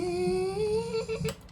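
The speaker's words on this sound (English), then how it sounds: "It's just 6 or 7 takes of random sounds into a mic with my voice" A solo human voice sung close into a microphone holds one sustained, slightly wavering vocal note that drifts gently upward before breaking into a brief rougher burst near the end.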